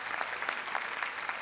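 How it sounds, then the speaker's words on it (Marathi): A studio audience at the Marathi comedy show Chala Hawa Yeu Dya applauds to welcome a guest, with fairly quiet, sustained clapping from many hands and a dense, even rhythm. "जोरदार टाळ्या त्यांच्यासाठी झाल्या पाहिजे"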